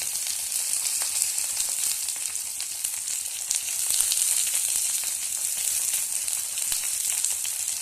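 Beans, potatoes and ginger sizzle in a frying pan while a squash dish cooks, giving an even, steady crackling hiss from close by throughout, with no speech.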